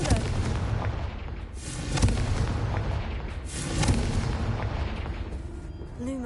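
Fiery Confringo spell blasts go off in Hogwarts Legacy on PS5, two heavy booms with rumbling tails rolling over a dense, noisy game soundscape.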